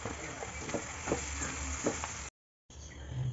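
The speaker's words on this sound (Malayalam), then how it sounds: "ചിക്കൻ പിച്ചി ചീന്തി വെച്ചതൊക്കെ നമ്മൾ ഇതിലേക്ക് ഇട്ട് കൊടുക്കാം കേട്ടോ എന്നിട്ട് നമുക്കിത് നന്നായിട്ട് ഇളക്കാം" Shredded chicken stirred in a hot frying pan for chattipathiri, a steady sizzle broken by soft scraping strokes of the spoon, close up, cutting out briefly near the end.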